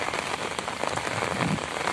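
Heavy, steady rain pours down on surfaces in Swabi, a dense continuous hiss and patter with no voices.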